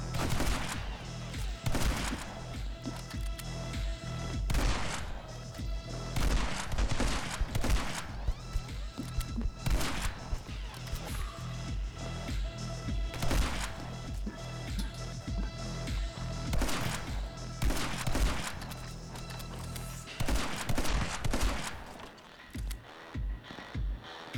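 Dense, relentless gunfire from the action shooter game My Friend Pedro, rapid bursts and volleys of shots layered over the game's pounding music, loud and continuous with brief pauses before a sudden drop near the end.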